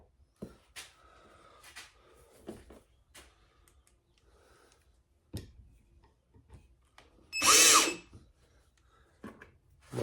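A power drill whirs in one short, loud burst while drilling into a pistol mount stand, set among scattered light taps and clicks of handling in a quiet room.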